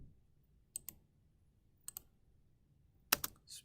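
Spacebar keys on a computer keyboard are pressed during CAD fillet work, three sharp doubled clicks spaced about a second apart, close and crisp in a quiet room with no talking.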